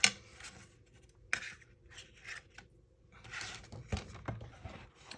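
Scissors snip by hand around a paper envelope shape for a Spellbinders card, giving a close, quiet series of irregular crisp cuts and soft paper rustles with short pauses between them.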